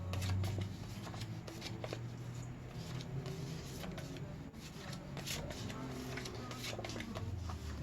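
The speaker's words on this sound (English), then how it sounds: "We're going to pull their 1970 cards out" Strat-O-Matic baseball cards being handled: continuous soft rustling, riffling and sliding of card stock, close and busy throughout, with a low hum beneath.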